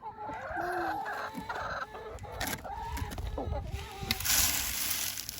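Several chickens cluck and murmur close by, their calls overlapping in a busy, continuous stream with some rustling.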